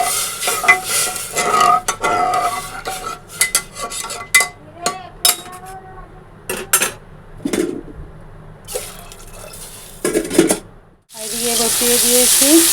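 Whole spices are tempered in hot oil in a pan for dal, with scraping, stirring and clinks of a utensil in irregular bursts, ending in a loud, sustained sizzling hiss.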